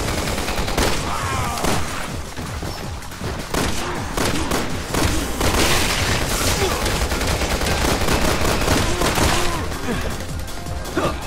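Dense, sustained gunfire from the video game Resident Evil 6 in split-screen Mercenaries mode, with rapid overlapping shots and bursts that are loud and continuous throughout, mixed with occasional game voices.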